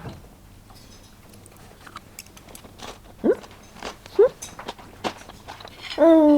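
Crisp crunching bites into a shrimp and mango spring roll served with mango sauce at a hotel dim sum buffet, a string of short close crackles with a few brief murmured vocal sounds between them.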